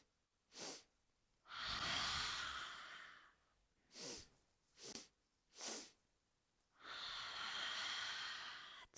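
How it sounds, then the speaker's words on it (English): Slow deep breaths during a chair yoga session, with several long airy inhales and exhales alternating with short sharp sniffs, close and quiet with no talking. "We're going to inhale."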